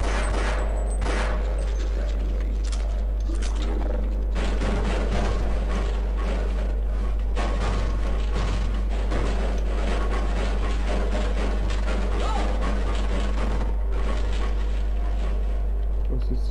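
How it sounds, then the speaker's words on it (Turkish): Explosions and rapid gunfire crack repeatedly in the video game Half-Life, dense bursts of loud blasts following one another over a constant low hum, without talking. "Patlayıp duruyor, bomba mı atıyor işte?"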